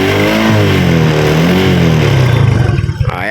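A motorcycle engine revs hard and close, its pitch sweeping up and down over a few seconds, then it drops back with a stuttering, uneven burble at the end.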